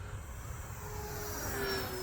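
An Arrows T28 RC model airplane's electric motor at full throttle on a 3S battery gives a thin, distant whine that rises slightly in pitch as it passes, over steady outdoor wind noise.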